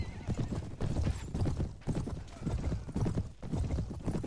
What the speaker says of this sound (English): This guy's actually on a faster horse than me.